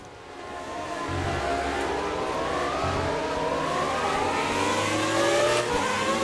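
In a racing video game, a classic Williams Formula 1 car races around the Baku street circuit, its engine screaming high and continuous while revs climb and shift. The engine stays loud and close throughout, with no talking.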